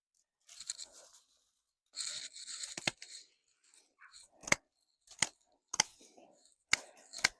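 Pruning shears snip back dead stems on Scabious perennials, close up: rustling through dry foliage, then a series of crisp, separate cuts spaced roughly a second apart.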